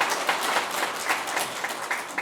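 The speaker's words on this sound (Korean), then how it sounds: "다시 한번 큰 박수 부탁드리겠습니다" Seated attendees at a Korean National Assembly policy seminar on suicide prevention give a short round of clapping, a brisk, moderately loud patter lasting about two seconds.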